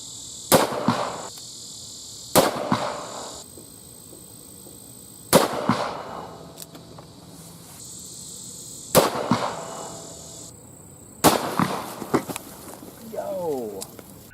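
A Ruger GP100 .357 Magnum revolver with a 4-inch barrel firing Remington UMC 125-grain rounds outdoors, five sharp loud shots spaced a few seconds apart, each with a short ringing tail, insects chirping faintly between them.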